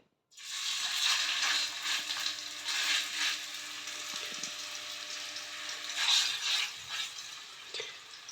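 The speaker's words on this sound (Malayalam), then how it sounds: "എണ്ണയൊക്കെ ഒന്ന് ചൂടായി വന്നപ്പോഴത്തേക്കും ഇതാണ് ഞാൻ നമ്മുടെ മസാല തേച്ച് വെച്ചിരിക്കുന്നത് ചിക്കനൊക്കെ അതിനകത്ത് ഇടാവേ" Masala-marinated chicken pieces sizzle and crackle steadily in hot oil, a loud, bright frying hiss that starts abruptly and continues with fluctuating bursts, close to the pan and without talk.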